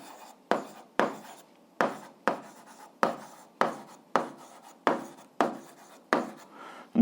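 Handwriting during an algebra exercise: a steady series of about ten short pen scratching strokes on paper, close up and evenly spaced, with quiet pauses between them and no talking.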